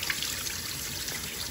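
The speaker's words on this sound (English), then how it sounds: "wash it until you see all the water start running clear" Tap water runs steadily over parboiled rice as it is rinsed, a continuous close trickle and pour with a broad hiss that holds at an even level throughout.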